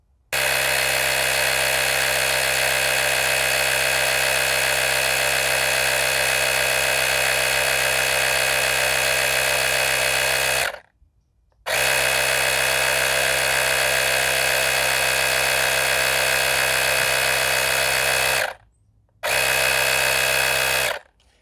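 An Auxito AJ01 portable jump starter's built-in air compressor buzzes loudly and steadily while inflating a tire, running for about ten seconds, pausing briefly, then resuming twice with short breaks.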